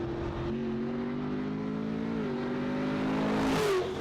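Race car engine revving hard on a mountain hill climb, with steady harmonic drone shifting pitch as the driver drops a gear then pulls back up, growing louder toward the end before a quick upshift.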